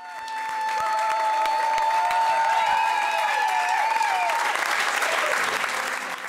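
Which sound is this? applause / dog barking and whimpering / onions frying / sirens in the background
applause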